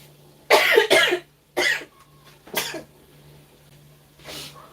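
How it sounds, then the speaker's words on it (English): Several harsh coughs and throat-clearing bursts while cooking jollof rice and spicy stews, the fumes catching in the throat; close and loud, with short pauses between fits and a faint steady hum underneath. "makes me wanna cough"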